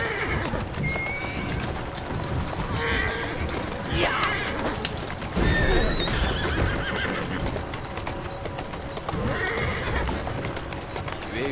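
Horse in the game Assassin's Creed Syndicate, whinnying and clip-clopping along at a steady gallop under mixed game sound, with someone speaking French over it.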